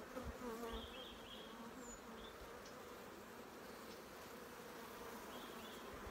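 Native Hatay honey bees forage in winter, filling the air with a steady, even buzz of many wings that holds unbroken from start to finish at a moderate, somewhat distant level.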